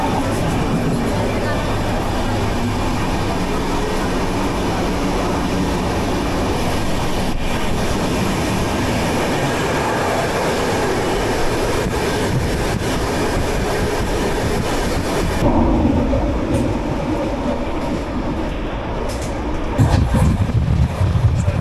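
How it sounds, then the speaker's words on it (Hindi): Passenger train running as it comes into Buxar station: continuous loud rumbling and clickety-clack rolling throughout, then the sound shifts near the end as the train slows, with faint voices in the background. "रेलवे स्टेशन पर ट्रेन आ चुकी है लगभग, अब रुकने वाली है।"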